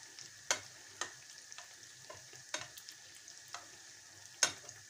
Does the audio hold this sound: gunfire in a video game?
no